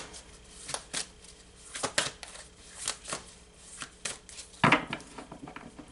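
Cards being shuffled in a series of quick riffling bursts and taps, close and fairly loud, with no talking.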